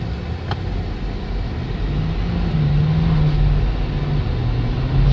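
A 2023 Ford F350 HO Powerstroke diesel pickup accelerates from 0 to 60, its engine drone climbing slowly in pitch under steady road and cabin rumble, with no voices.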